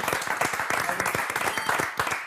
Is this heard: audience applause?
yes